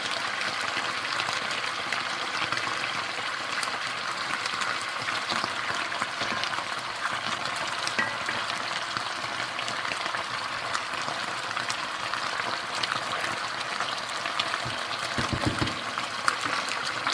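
Beef rouladen, rolled braised beef with mustard, fry in a pan with a steady, even sizzle and crackle that runs unbroken throughout, close and moderately loud, with no talking.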